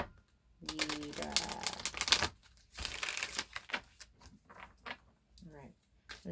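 Rapid papery riffling of cards being shuffled, in a few bursts, with a voice speaking between them.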